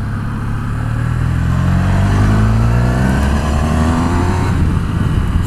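A Honda VFR1200X motorcycle rides and accelerates, its engine note climbing steadily through the revs, loud and close with wind noise throughout and no talking.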